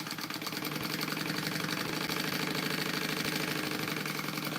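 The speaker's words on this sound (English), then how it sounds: "I'm going to baste this raw edge closed first before I add my accent strip here." A sewing machine bastes a raw edge closed, giving a quiet, fast, even mechanical whir of stitching that runs steadily for several seconds with no talk.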